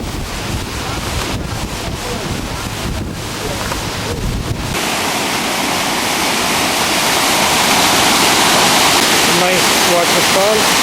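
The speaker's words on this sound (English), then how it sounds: "waterfall." A waterfall in a national park on Mauritius roars as a constant broadband rush, with wind buffeting the microphone and a voice in the first half; the water noise thickens and dominates toward the end.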